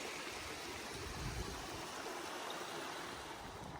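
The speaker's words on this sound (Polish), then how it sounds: "Strumień. Zobaczcie." Steady rushing of a mountain stream at the Fairy Pools in Scotland, a continuous broadband burble of flowing water with no voices.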